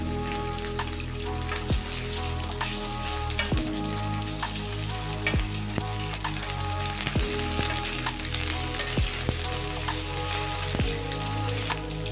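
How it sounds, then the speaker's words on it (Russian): Previously cut potatoes fry in about 80 ml of heated vegetable oil in a skillet, giving a steady, dense crackling sizzle that runs unbroken from start to finish without any talking. "Обжарить в масле ранее нарезанный картофель."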